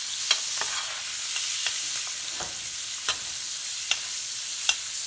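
Steak basting in butter in a hot pan gives a steady, bright sizzle with occasional sharp spits and pops, close by and with no talking.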